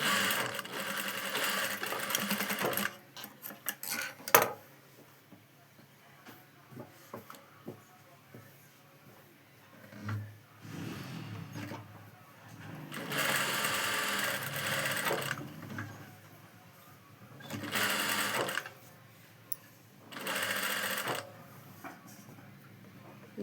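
A sewing machine stitching the lining of a long frock runs in several bursts of rapid, even whirring, separated by pauses with quiet handling sounds and brief low talk.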